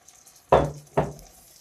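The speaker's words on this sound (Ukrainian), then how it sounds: "Перемішаю манку з маслом" Semolina stirred in melted butter in a pan on the stove, giving two short, close scraping swishes about half a second apart over a faint background hiss.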